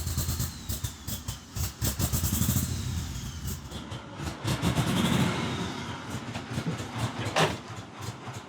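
A GMC Typhoon truck engine, run after sitting 21 years and leaking fuel onto the exhaust manifold, idles close by, running rough and uneven with sputtering pulses, loping surges and occasional clanks.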